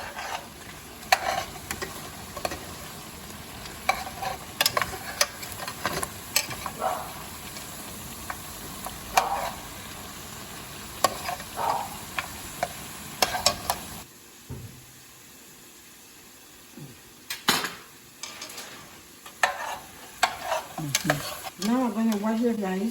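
Sofrito and Italian tomato paste being stirred in a pan, a steady sizzle broken by repeated scraping stirs, then quieter frying near the end.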